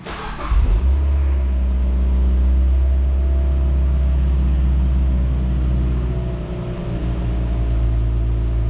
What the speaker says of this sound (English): You'll basically want to fire the car up.